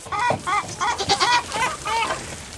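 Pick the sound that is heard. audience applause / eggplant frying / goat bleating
goat bleating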